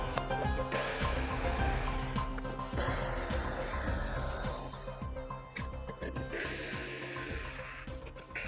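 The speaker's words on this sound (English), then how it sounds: "This time I cut them right to the tip and I have to finish it off with the jigsaw there." A jigsaw cuts through a wooden deck stair stringer, giving a continuous loud buzzing, rasping saw noise that surges and dips as the blade works through the wood, recorded close with no talk.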